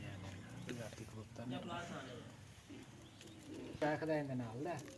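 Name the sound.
domestic pigeons cooing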